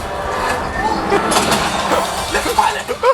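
Train sound effects from the Smuggler's Run ride at Galaxy's Edge, Hollywood Studios, a steady rumbling roar with clanks and bursts, mixed under excited overlapping voices shouting throughout.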